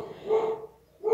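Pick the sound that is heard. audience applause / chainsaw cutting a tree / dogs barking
dogs barking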